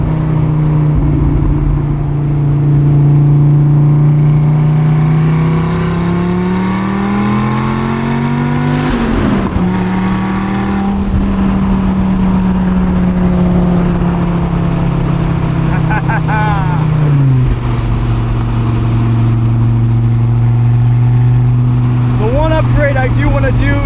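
A 2004 Dodge Viper SRT-10's V10 engine drones steadily, then revs and climbs through gears in loud sustained pulls with brief shifts between them, heard from inside the car on a cold day.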